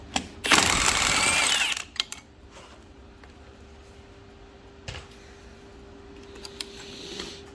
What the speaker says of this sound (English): Flywheel nuts is 17 millimeter. I just had to go get my impact.